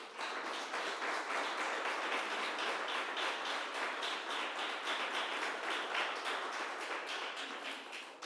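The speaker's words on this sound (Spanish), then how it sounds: "Dele un fuerte aplauso al Señor Jesús." A church congregation gives strong, sustained applause, a dense, even wash of many hands clapping that fills the room and fades slightly at the end, with no talking.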